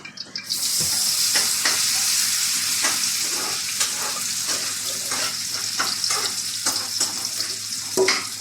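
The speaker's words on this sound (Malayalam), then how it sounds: "നമ്മൾ ഈ സോസേജ് നമ്മൾ മുറിച്ചിട്ട് മസാല കറി വെച്ചൊന്ന് ഫ്രൈ ചെയ്തെടുക്കാം" Sliced sausage fries with masala in a hot pan, a loud, steady sizzle with repeated scraping stir strokes and crackles, heard close with no talk.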